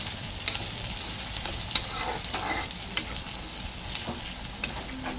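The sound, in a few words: onions frying in pan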